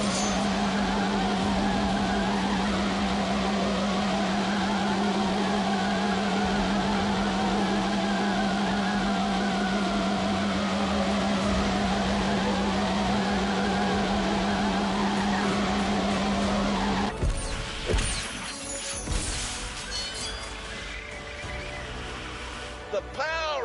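A Citroen race car engine in a video game drones steadily with a constant low tone and a layer of mechanical whine, then cuts abruptly to a clattering, broken mix of noises; a voice talks at times.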